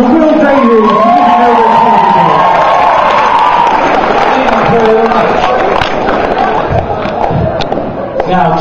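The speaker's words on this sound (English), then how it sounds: "give a big round of applause for Will Davies" A comedy club audience in Frome, Somerset breaking into loud, sustained applause and cheering for a stand-up comedian, a dense close wash of clapping with shouts and whoops on top.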